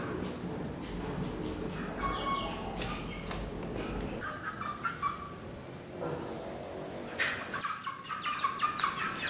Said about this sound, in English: Used to be a living space of someone, but now, yeah, it's the home of some chicken.